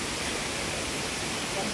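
Steady, dense rush of falling water from Haray Falls in Catanduanes, heard close and continuous without a break, a broad hissing roar that fills the whole short stretch.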